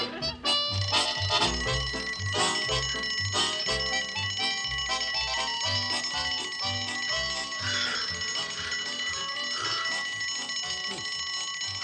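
A little hand bell tinkles with bright, sustained ringing tones over a continuous bed of music with a steady, pulsing low beat.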